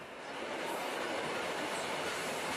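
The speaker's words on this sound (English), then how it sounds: "as the train is coming out of the tunnel" A train rumbles loudly and steadily as it comes out of a tunnel and rolls by at close range, a broad roar with no voices.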